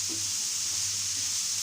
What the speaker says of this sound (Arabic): غادي نشحر الخضره مزيان مع بعضياتها.